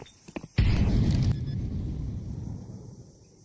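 A frag grenade blows up in Counter-Strike: a few faint clicks, then one loud, close blast with a long rumbling tail that slowly fades out.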